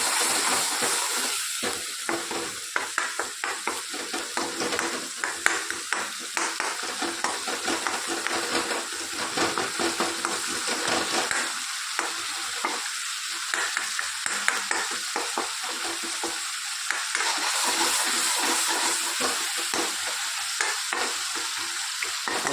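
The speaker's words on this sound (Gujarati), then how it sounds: "મસાલો સરસ શેકાઈ જાય." Masala roasting and frying in a pan, with a steady close sizzle broken by repeated scraping stirs of a spoon against the metal throughout, and no voices.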